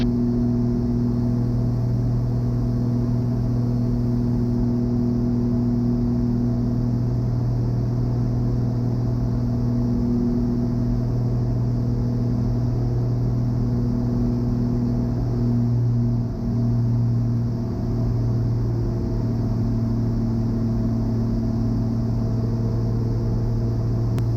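Twin piston engines of a Beechcraft Baron 58 drone heavily inside the cabin as power is eased back for descent, a loud, steady, throbbing hum with layered tones and a slight shift partway through.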